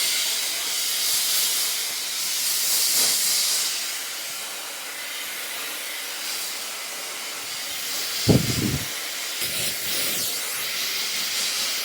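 A SRI Dry Q hair dryer runs as a steady, loud broadband hiss that continues through the whole stretch, with a couple of brief thumps and handling knocks near the end.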